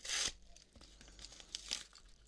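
A short sharp tear of a thin mail packet, then softer crinkling and a second ripping sound near the end.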